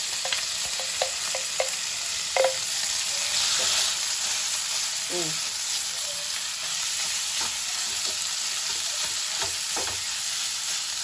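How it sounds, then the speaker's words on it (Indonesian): Chopped chicken with onions frying in hot oil for chicken croquettes: a steady loud sizzle with occasional spatula scrapes and stirring clatter, close up and continuous. "Ieu hayam nu tadi geus dicop jeung non teh jeung bawang-bawangan langsung digorengkeun ka minyak panas"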